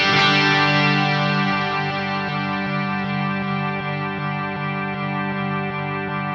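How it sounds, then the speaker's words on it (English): Sustained electric guitar chord through a Fractal sound-on-sound rig with a processed, repeating delay effect that echoes on and on, steady and moderately loud, slowly fading. "It sounds much less like a pad and much more like a delay that's just repeating over and over"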